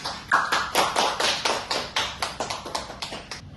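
Classroom applause for a student, a short run of distinct claps in a fairly even rhythm, close and moderately loud, with no talking over it.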